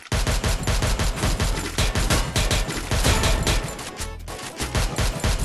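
Dense, rapid gunfire fills a mobile shooter game, with loud sustained bursts and brief gaps, close and continuous throughout.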